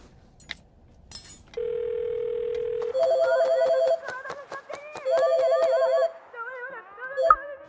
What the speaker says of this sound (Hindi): वो एक्चुअली फोन अभी कट हो गया आई थिंक नेटवर्क चला गया था